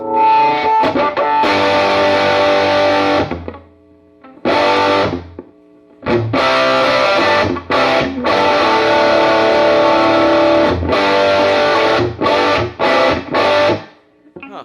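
Loud, heavily distorted electric guitar through a Vox lil Night Train amp and Celestion Greenback speaker plays chunky rock chords in bursts separated by short silences, close and forceful.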